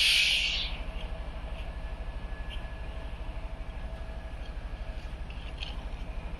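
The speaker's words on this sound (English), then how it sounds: "The train is departing. Next stop. Train yard." Moving train in the Apex Legends video game, a steady rhythmic low rumble with regular clacking pulses throughout, after a brief bright burst at the start; fairly close and continuous, no talk.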